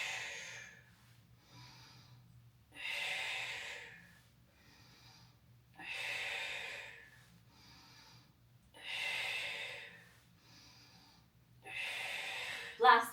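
Slow, audible breaths during a floor exercise, with long airy exhales repeating roughly every three seconds, close and soft, over a low steady hum.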